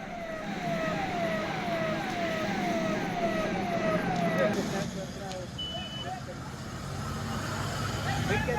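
A fire engine siren answers a lorry fire in Vijayanagara, a steady run of rising wails at moderate distance over traffic and street noise. It cuts off partway through, leaving background rumble.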